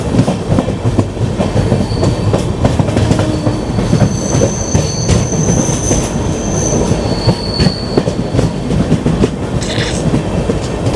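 A WAP-7 electric locomotive hauls the Sabari Express past fields, its wheels clattering steadily on the rails, with high squealing tones rising midway, loud and close for the whole pass.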